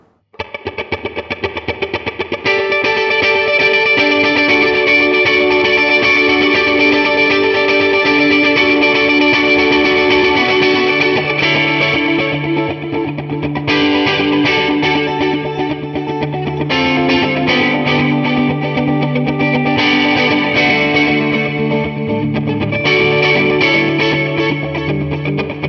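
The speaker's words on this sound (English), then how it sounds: "I'm using a neck single coil into some modulated delay and a hall reverb" Electric guitar on a neck single-coil pickup played through a Hiwatt Custom 20 amp with TC Electronic modulated delay and hall reverb: loud sustained chords and notes with shimmering, washing repeats and a long reverberant tail, continuous throughout.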